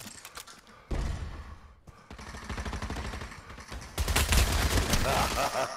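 Rapid gunfire from the Pavlov VR deathmatch on PSVR2, sustained bursts of close shots with heavy recoil, loudest in a dense final volley, while a player mutters and talks between the shots.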